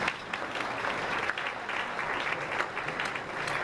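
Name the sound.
audience applause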